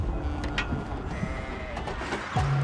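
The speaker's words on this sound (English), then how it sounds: "It's just a stubborn old sheep." A stubborn old sheep bleats among livestock being loaded onto a truck deck outdoors, its calls short and mid-distance, mixed with scattered thuds, hoof noise and background rumble.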